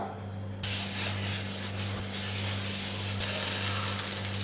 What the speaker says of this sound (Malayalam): അല്പം ഓയിൽ ഒഴിച്ച് കൊടുക്കുകയാണ്